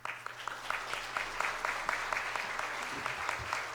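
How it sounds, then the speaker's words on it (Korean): A church congregation applauds to welcome Pastor Kwon onto the stage at a deacons' dedication service, a soft, steady patter of many hands with occasional sharper claps, distant and fairly faint. "큰 박수로 환영해 주시면 감사하겠습니다"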